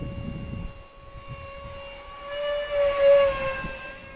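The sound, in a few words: Freewing F-86 Sabre 64mm EDF RC jet motor, higher pitch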